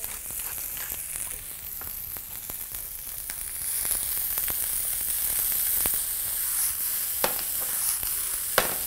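Shredded white cabbage with salt and black pepper sizzles steadily in a hot pan, a constant crackling hiss punctuated by occasional sharper pops, close by.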